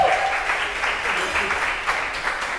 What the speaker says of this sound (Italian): un applauso ci vuole